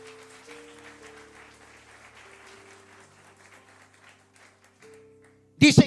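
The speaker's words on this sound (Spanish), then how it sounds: "Dale ese aplauso al Rey" A church congregation bursts into loud applause during a Spanish-language sermon. The clapping comes as a short, sudden burst at the very end, after a quiet stretch of soft sustained tones.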